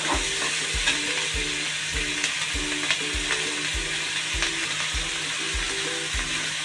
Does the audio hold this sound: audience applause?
no